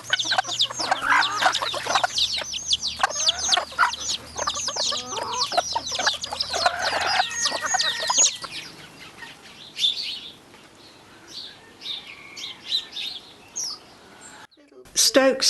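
A flock of poultry crowds around a bucket of compost, clucking and squawking in a dense, overlapping burst for several seconds before the calls thin to sparse, quieter clucks, with a voice heard at times.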